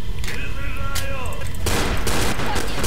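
Pistol gunfire in the Left 4 Dead video game: loud, dense shooting over a constant noisy din, with a short tonal sweep early on before a heavier burst of shots takes over.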